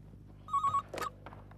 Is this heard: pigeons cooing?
no